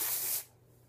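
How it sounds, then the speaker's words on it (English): Oscar Blonde texture and volume spray hissing onto hair in one close, loud aerosol burst of under half a second, then cutting off to quiet room tone. "I'm going to use the texture and volume spray from Oscar Blondie as well."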